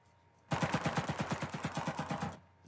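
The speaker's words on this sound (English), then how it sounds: "Are you shooting at him? Yeah, I just start shooting at him." Automatic gunfire in the online shooter CRSED: a single close, loud burst of rapid, evenly spaced shots lasting about two seconds, with no talking over it.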